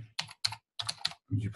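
Quick keystrokes on a computer keyboard while a Google Drive folder name is entered, coming in four short bursts of clicks with brief gaps between them, close and fairly quiet.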